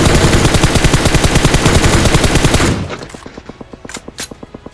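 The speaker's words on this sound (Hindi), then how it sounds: "उतने में आगे गोलियों की आवाज आने लगती है" Automatic gunfire in PUBG Mobile, a dense rapid rattling burst, loud and close for nearly three seconds, then trailing off into scattered quieter shots.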